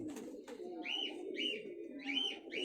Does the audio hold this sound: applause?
no